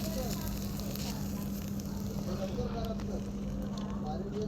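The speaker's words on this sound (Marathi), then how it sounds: "मग पाणी शिपरून आम्ही आग विझवणार त्याची" Water splashed onto a wood fire after cashews are roasted outdoors in the Konkan countryside gives a steady, dense hiss and crackle throughout, moderately close, with no clear talk over it.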